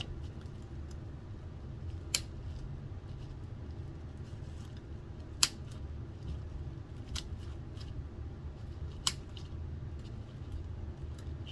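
Scissors snip craft pieces for a Dollar Tree candle ring, giving a few sharp, isolated clicks over a steady low background hum.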